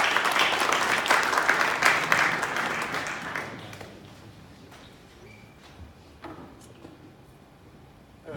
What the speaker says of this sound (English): A big round of applause, please, for Russell Peltz.